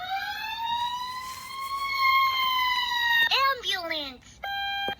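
A toy English sound pen plays a fire truck siren: a rising electronic wail that holds, then drops in a falling sweep, followed by a few short beeping tones, clear and fairly close.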